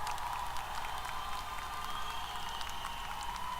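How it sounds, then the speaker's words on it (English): A crowd at a university graduation ceremony applauds steadily, dense clapping holding an even level from start to end, moderately distant. "Let's give her a round of applause."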